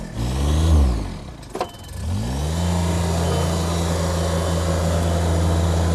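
A vehicle engine revs hard while stuck with its front wheels spinning and four-wheel drive not engaging; the pitch swoops up and down, dips briefly, then holds a loud, steady, strained drone up close.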